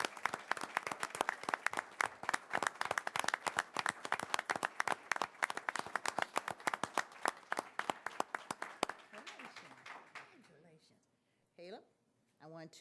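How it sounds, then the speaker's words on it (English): An audience at an award ceremony claps enthusiastically for about nine seconds, dense and rhythmic, then the clapping thins out and a voice speaks briefly. "Let's give him a round of applause"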